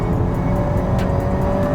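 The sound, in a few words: Acura Integra Type R engine VTEC changeover at high RPM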